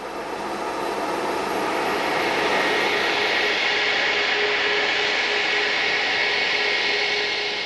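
A British Airways Concorde sits at a terminal gate at Kennedy airport, its jet engines producing a loud, steady roar and whine that holds evenly throughout without any voices.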